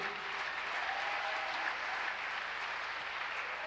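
Congregants at a church worship service clap together in a steady, full burst of applause that holds evenly from start to finish.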